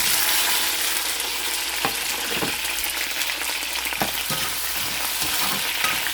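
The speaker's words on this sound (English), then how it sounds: "Saute this until this is all the spices are infused all together wonderfully." Beef mechado with spices sautés in a pan, giving a continuous even sizzle with a few sharp stirring clinks and scrapes near the mic, and no talking.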